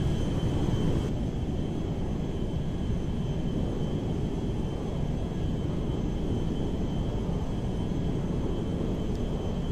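Continuous low engine rumble of a large firefighting tanker plane powering up for takeoff in the video game GTA 5, steady and moderately loud with no voices.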